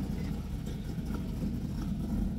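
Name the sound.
noisy car engine running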